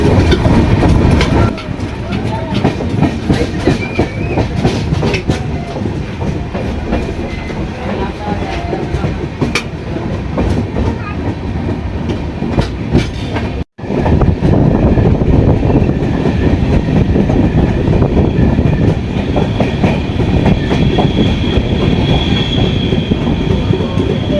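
A moving passenger train on the Pune to Prayagraj route rumbles steadily with rhythmic clatter of wheels on the track, heard from inside a carriage while someone talks over it.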